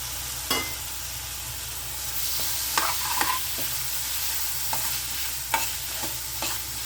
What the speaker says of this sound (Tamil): சேர்த்து எல்லாம் நல்லா மசிஞ்சு வர அளவுக்கு நல்லா வதக்கிக்கோங்க.